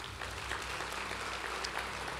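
A church congregation applauds during a sermon, the clapping soft and distant, a faint wash of hands under the room's hiss.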